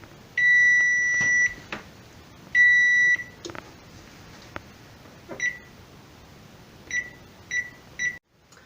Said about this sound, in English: the timer is about to go off.